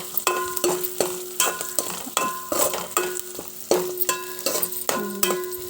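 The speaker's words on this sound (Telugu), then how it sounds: "ఇవి అటు ఇటు కలుపుతూ ఉంటే మంచిగా మాగుతూ ఉంటాయి నూనెలో" Slit green chillies frying in oil while a utensil stirs them, a close sizzle broken by repeated sharp clinks and scrapes against the pan at a regular rhythm, with no voices.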